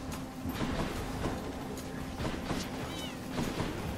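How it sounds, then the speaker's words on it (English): Cat-like enemies in the game Hades make several short yowling meows scattered over steady game background sound, moderately loud, with a faint pitched whine near the end. "they make cat noises!"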